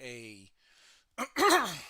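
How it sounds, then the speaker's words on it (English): A person clears their throat with a short rough burst followed by a louder gravelly rasp, close to the microphone, after a brief stretch of quiet voiced sound, while painting a cloth on a Warhammer 40k Adeptus Sororitas miniature. "oh, excuse me, as I'm clearing my throat."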